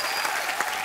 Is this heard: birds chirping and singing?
no